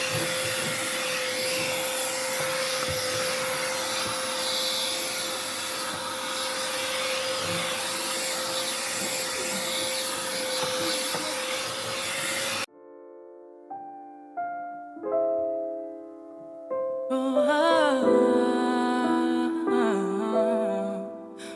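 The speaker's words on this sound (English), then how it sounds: "I just want to vacuum first to make my work easier" A steady, loud vacuum cleaner drone runs for over twelve seconds, then cuts off and gives way to music.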